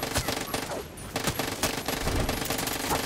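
Rapid automatic gunfire from a machine gun in the video game Far Cry 6, dense overlapping bursts with sharp cracks and a brief lull near one second, loud and continuous throughout.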